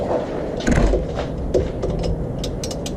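A ratchet wrench tightens bolts on the front suspension of a 1998 Ford F150, giving quick, close metallic clicking bursts that repeat for a few seconds.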